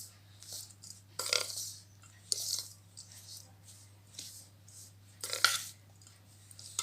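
A spoon scrapes and clinks in a bowl as ragi flour is mixed with cardamom powder, in several separate bursts of scraping over a steady low hum, with quiet gaps between.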